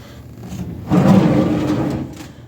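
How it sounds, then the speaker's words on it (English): An accessory drawer slides into a homemade electric smokehouse with a single close wooden scrape and rumble lasting about a second, after a quiet start. "Put the little accessory drawer out here."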